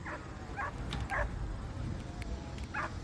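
Dog in an outdoor Chicago setting giving several short yips and barks, moderately distant, spaced irregularly over a low rumble of ambient noise.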